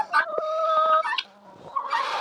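Chickens cluck and chirp on a village farm in Ukraine, several close, moderately loud bird calls overlapping in quick succession with brief gaps.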